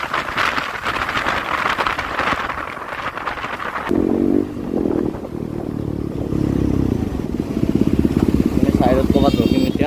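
A KTM or Yamaha R15 motorcycle rides along in a drag-race setting, its engine droning and revving under strong wind rush while people talk over it.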